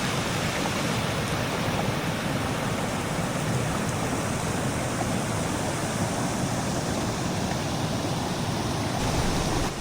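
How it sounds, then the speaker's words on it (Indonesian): Waterfall on Mount Rinjani, a steady broadband roar of falling water heard close and constant throughout, with no voices. "di sebelah sana ada air terjun juga yang harus saya datangi"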